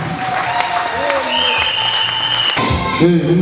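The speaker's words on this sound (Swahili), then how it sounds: "Yaani watu wanapiga makofi hapa." A church congregation applauding during praise worship, a short stretch of dense clapping heard under a loud voice and other crowd sounds.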